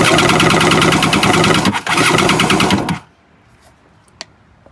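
A Kawasaki JS300 stand-up jet ski engine fires and runs with loud, rapid, rattling two-stroke pops for about three seconds, then cuts out, leaving near silence and a single faint click.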